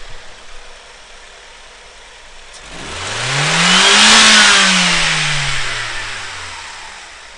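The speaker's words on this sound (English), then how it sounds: "we're going to go wide open throttle" A car engine idles, then revs hard to full throttle during a compression test, its pitch climbing to a loud peak before winding back down toward idle.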